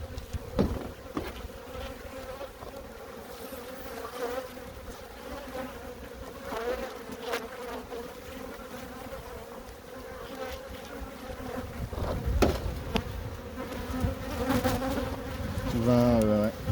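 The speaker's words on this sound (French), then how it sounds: "Encore des faux bourdons dans celle-là." Honeybee drones and workers buzzing inside an opened beehive, a continuous close droning hum with individual bees whining past the ear, growing louder toward the end.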